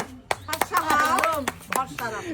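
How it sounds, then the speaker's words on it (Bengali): Loud hand clapping during a lighthearted party game challenge, several sharp claps scattered among excited overlapping voices of people talking and shouting close by. "জোরে হাততালি।"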